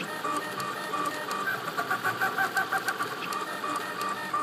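An Ultimaker 3D printer runs a test cube at 250% speed, its stepper motors buzzing and chirping in quick, rhythmic bursts as the head darts back and forth, close and steady throughout.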